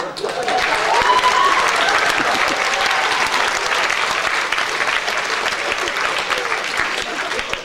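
An audience at a festival show claps for a parish band being introduced on stage, a loud, dense and steady burst of applause that holds for several seconds.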